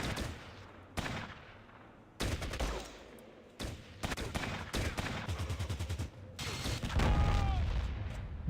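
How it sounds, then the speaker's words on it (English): Combat in Fallout Tactics, ending in a rocket explosion. Sharp bursts of gunfire in rapid volleys repeat across the clip, then a heavier, sustained blast rumbles near the end. It is loud and close, with no speech. "Blown up by a rocket, dude."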